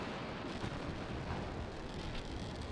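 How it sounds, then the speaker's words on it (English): A rocket crashes and explodes in Kerbal Space Program, a dense, sustained rumbling blast that fills the clip at steady loudness with no speech. "So we get a nice explosion"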